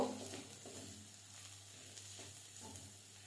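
Kasuri methi and Kashmiri chili powder are stirred in a hot pan for chana masala, a faint, steady sizzle with soft scraping strokes of the spoon running throughout.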